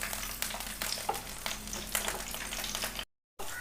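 Garlic cloves and green chillies sauté for chammanthi, a soft sizzle broken by light spatula scrapes and taps, close but fairly quiet, ending in a brief dropout of silence.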